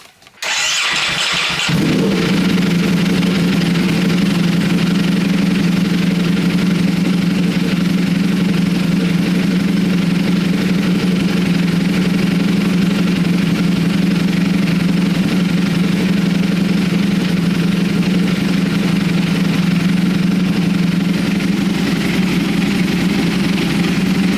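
A custom Ducati Panigale V4 motorcycle engine fires up after a brief moment and settles into a steady, close idle with an even hum that holds throughout.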